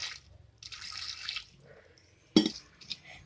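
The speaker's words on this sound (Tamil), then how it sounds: "அதனால நம்ம கொஞ்சமாக மட்டும் அந்த வேகிறதுக்கு மட்டும் தண்ணி ஊற்றிக்கலாம்." Water is poured into a cooking pot while chayote (chow chow) is prepared for moor kootu, heard as splashy bursts of liquid with pauses between them and a sharp clink of the pot.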